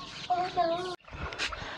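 A rooster and hen cluck and call close by in a farmyard coop, with a short burst of clucking followed by scuffling and another call, while someone talks over them.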